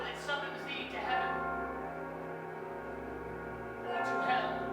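Tolling bell used as a stage effect in a theatre production of Macbeth, heard as sustained ringing tones under a man's spoken lines.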